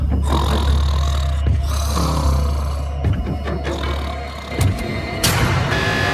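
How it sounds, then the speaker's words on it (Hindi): A man snores loudly while asleep in a prison cell, giving a string of rough, rattling breaths and snorts close by, with no talking. "तुम्हारे खर्राटों ने सोने नहीं दिया"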